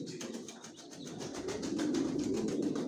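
Young racer pigeon chicks in a loft give a steady, soft, repeated cooing and murmuring, close and continuous with no talk over it.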